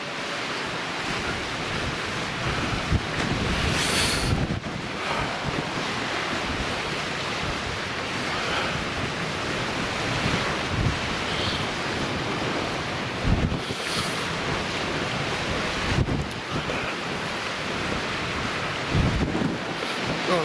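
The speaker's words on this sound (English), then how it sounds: "I can see the sea splashing over the wall in the distance there." At high tide in Watchet, the sea splashes over a harbour wall some distance away, heard as a continuous roar of surf with occasional heavier surges, while strong wind buffets the microphone throughout.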